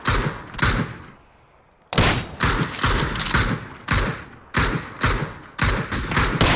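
Video game gunfire comes in loud, close bursts of rapid shots with brief pauses between volleys, one longer gap near the start, and no talk over it.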